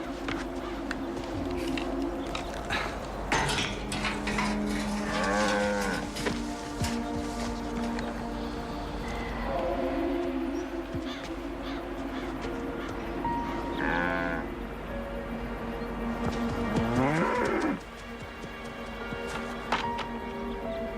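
A cow moos several times, drawn-out lowing calls over a busy farmyard background with shuffling and hoof noise.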